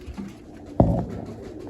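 Pigeons in a loft give a single short, close coo over quiet background rustle.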